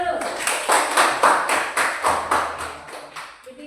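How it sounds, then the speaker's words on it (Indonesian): A class of children claps together in a steady rhythmic burst of about eight loud, even claps, close by, tapering off at the end. "Tepuk tangan dulu."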